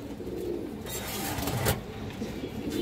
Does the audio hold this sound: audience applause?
no